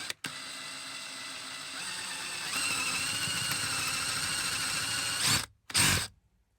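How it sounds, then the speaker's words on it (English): Handheld power drill boring a hole for a dowel in a small boat project, whirring steadily and rising slightly in pitch before stopping, then two short final bursts. "power drill, handheld power drill"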